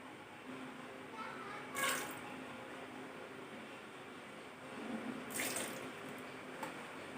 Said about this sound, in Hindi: तो उसके बाद मैं एक बकेट में पानी लेती हूँ